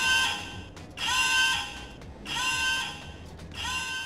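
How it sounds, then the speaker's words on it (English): Big Run alert alarm in Splatoon 3 Salmon Run, a loud electronic buzzing siren pulsing in four bursts of about half a second to a second each, separated by short gaps, with no talk over it. "What? What's that alarm going off?"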